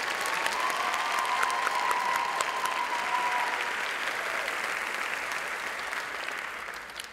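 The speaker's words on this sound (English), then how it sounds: "let's applaud for all of them." Sustained applause from a sizable crowd at a nursing pinning ceremony, steady and dense clapping that holds at an even level before gradually thinning toward the end.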